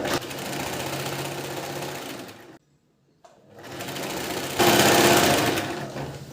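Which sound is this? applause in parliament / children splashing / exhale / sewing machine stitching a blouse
sewing machine stitching a blouse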